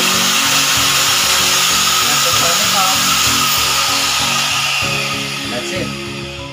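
An angle grinder, switched on and running, gives a loud continuous high whine over a pulsing low mechanical hum, close by and steady, tapering slightly at the end.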